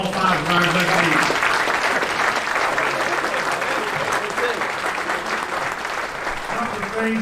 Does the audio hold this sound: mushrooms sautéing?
no